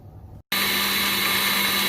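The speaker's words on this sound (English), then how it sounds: "as it churns and speeds, it's going to turn into it becoming churned into butter" An electric mixer whirs steadily as it churns whipped cream toward butter, starting after a brief gap and running loud and continuous at close range.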